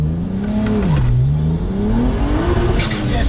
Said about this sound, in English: Yes, it definitely blows the tyres